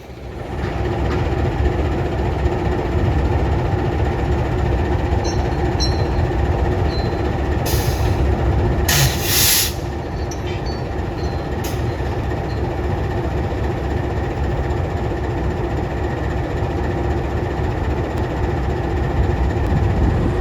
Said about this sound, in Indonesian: Ini mau masang ke rangkaian keretanya ya, yang ada di sini.